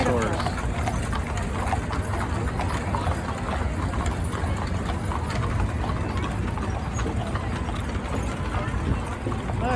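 Horse hooves clip-clop in a steady trotting rhythm on pavement at a Mule Day parade in Tennessee, with an engine rumbling and people chatting nearby.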